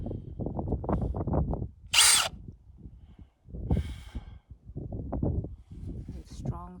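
A power drill bores through the steel wall of a shipping container in one short, loud, high-pitched burst, with a fainter grinding burst after it, amid steady conversation between people.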